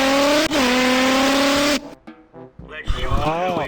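A voice imitates a revving race car engine, a loud sustained buzzing drone with a brief dip, then fading into breathy, wavering vocal engine noises.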